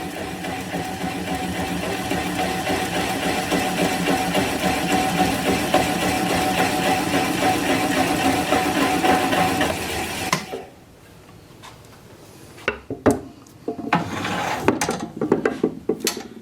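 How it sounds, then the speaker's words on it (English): A wood lathe turns a Gravenstein apple wood bowl while a gouge works the bottom, giving a steady close whirring drone for about ten seconds. The motor then winds down, followed by scattered knocks and clunks. "I'm going to apply the bevel of the gouge against the bottom of the bowl"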